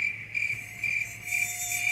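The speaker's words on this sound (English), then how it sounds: "how long does these crickets go?" Crickets chirp in a steady, loud, high-pitched trill that pulses in regular bursts close by, with no talking.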